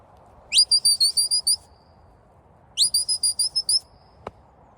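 Two bursts of rapid, high-pitched whistle pips, each a quick run of about seven notes, separated by a pause, with a brief click near the end.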